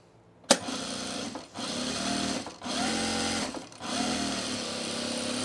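A sewing machine top stitches along the edge of a baby bag, running in three steady bursts separated by short pauses, close and fairly loud with a constant mechanical whir.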